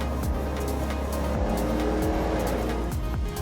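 Cars at Silverstone race track rumble and pass at a distance, a steady blend of engine drone with rising and falling revs and occasional tire noise, no voices.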